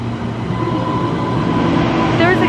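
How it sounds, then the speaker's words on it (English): A Transport for Wales class 230 train at a station, its steady rumbling hum and faint whine running close by while a voice talks over it. "There is a class 230 train behind me, which I have never seen running before."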